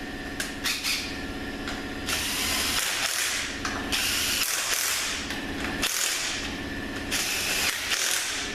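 Bolts being tightened with a ratchet during assembly of a Honda BAXA: a string of close, rapid clicking and rasping bursts that start and stop over a steady mechanical background.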